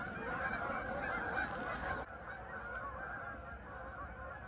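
A flock of geese by a lake dock at night honks loudly and continuously nearby, a dense chorus of calls that carries on without pause as they fly off.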